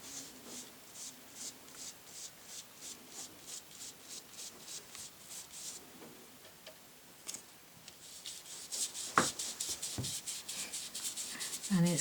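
Brush strokes of purple watercolour sweeping over wax-resist on paper, a steady run of soft rhythmic rubbing swishes, then a few sharper, louder scrapes toward the end, close and alone.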